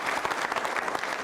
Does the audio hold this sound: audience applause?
yes